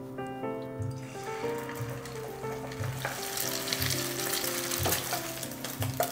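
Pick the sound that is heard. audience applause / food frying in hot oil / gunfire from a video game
food frying in hot oil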